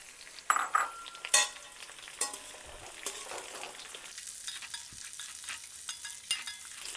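Two chopped onions go into a hot pan for moringa soup, giving a soft sizzle with scattered clinks and scrapes of a spoon stirring, a few sharper metallic taps standing out, close and without talk.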